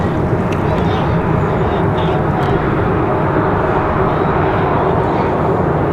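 An American Airlines Airbus A321 departs toward Charlotte, its engine roar a steady, loud broadband rumble that persists throughout, with a voice talking over it.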